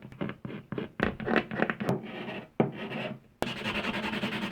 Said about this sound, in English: And scrape it down again.